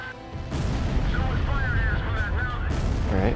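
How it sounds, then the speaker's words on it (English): Rapid bursts of gunfire and booming blasts in Ace Combat Zero: The Belkan War fill the scene continuously, with a voice talking over the dense, loud barrage. "That is a lot of gunfire."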